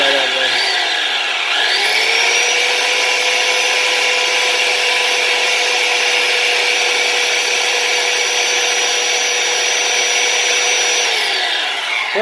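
A belt sander runs steadily on wood inside a school bus being converted, a loud continuous whine with a sustained motor tone that starts up and holds for about ten seconds before winding down.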